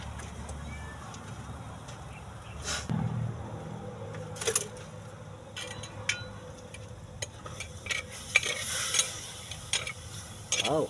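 Chicken adobo cooks in a clay pot, a quiet simmer and sizzle broken by scattered stirring scrapes and clinks.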